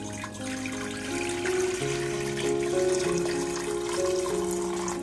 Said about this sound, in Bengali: এরপর দিচ্ছি পানি